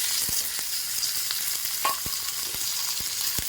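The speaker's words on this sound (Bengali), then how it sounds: "খুব ভালো কষিয়ে নেব।" Spices for a Bengali mustard egg curry sizzling steadily in hot oil alongside lightly fried potatoes, with occasional sharp clicks of a spatula stirring the pan, close and continuous with no talk.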